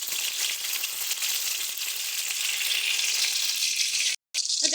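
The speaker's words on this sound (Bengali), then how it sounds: "একটু হালকা করে ভেজে দুটো পিঠ আমরা তুলে নিচ্ছি।" Boiled flat beans fry in hot oil, producing a steady crackling sizzle close by, briefly cut off near the end; no voices.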